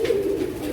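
A Lakha pigeon gives a single short, low, throaty coo, close and fairly loud, with no speech over it.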